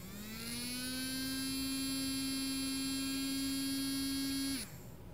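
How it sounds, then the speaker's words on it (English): A small DC motor driven through an L293D motor driver spins clockwise, giving a steady electric whine with a constant tone and bright harmonics, close and alone, then cutting off abruptly near the end. "the motor is rotating clockwise."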